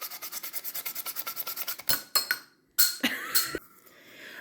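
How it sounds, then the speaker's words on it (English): Sandpaper sanding a model rocket nose cone, a rapid run of close, even scraping strokes that gives way to a few slower, louder rubs separated by brief pauses. "You're also going to want to sand the nose cone as well."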